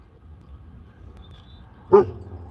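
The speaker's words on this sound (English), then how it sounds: "Do not bark at our bathroom." A single short, sharp dog bark sounds close by, cutting through a low indoor background hum.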